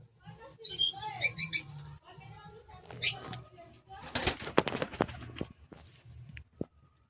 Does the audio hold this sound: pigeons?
yes